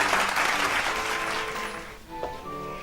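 A studio audience at a comedy show claps in a broad, continuous burst of applause, fairly loud and dense, easing slightly toward the end with a faint voice entering near the close.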